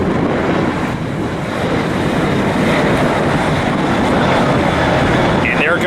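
A heavy airliner climbing out of LAX, heard from a hill beside the airport as a sustained, loud rushing roar with wind buffeting the microphone, continuous for several seconds with no distinct talking.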